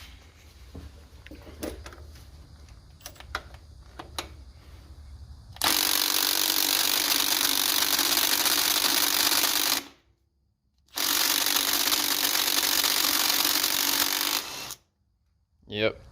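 Milwaukee M12 3/8-inch stubby cordless impact wrench, fitted with an adapter, hammers on a Subaru crank bolt: two long, loud bursts of rapid rattling impacts separated by a short pause, after quieter clicks and handling noises.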